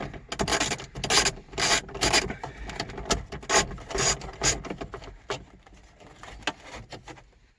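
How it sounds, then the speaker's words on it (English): A screw being unscrewed from an Acura interior cover, heard up close as a series of dry, rasping ratchet clicks and scrapes that come in bursts and then fade toward the end. "there's the 4th screw coming out"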